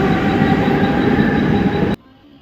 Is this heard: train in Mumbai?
yes